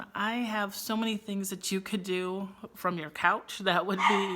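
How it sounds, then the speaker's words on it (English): A dog barks and whimpers in short bursts mixed in with a person talking continuously nearby, the yips and whines overlapping the speech throughout. "sorry for the dog."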